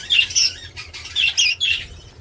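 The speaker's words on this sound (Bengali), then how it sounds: "দেখুন বাচ্চা পাখি দেখতেই পাচ্ছেন" Baby birds chirp and squawk in short shrill bursts while being fed from a person's hand, close and fairly loud, with brief flutters between calls and no talking.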